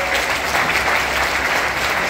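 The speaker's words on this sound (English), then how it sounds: "Can we put some applause?" An audience at a summer band camp in Ellicott City applauds a musician being introduced, producing a loud, dense, steady wash of clapping that fills the whole stretch without a break.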